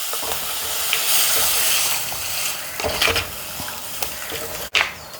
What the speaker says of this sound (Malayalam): ഇനി ഇതിലേക്ക് വെള്ളം ഒഴിച്ചു കൊടുക്കുക.